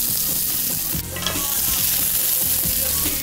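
Onions and lime leaves fry in hot sunflower oil in a preheated pan, giving a steady loud sizzle with stirring scrapes; a burst of crackle marks fresh ingredients landing partway through.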